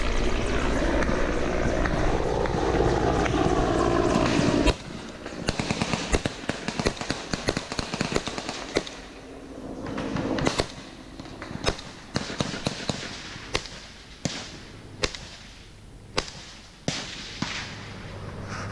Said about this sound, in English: Where we hear multiple shots being fired.